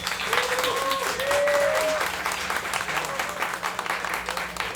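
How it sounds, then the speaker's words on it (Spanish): Audience applause for a band at a podcast anniversary episode, a dense steady clapping wash with a few voices and a faint whistle-like tone rising over it early on. "Un aplauso para ellos."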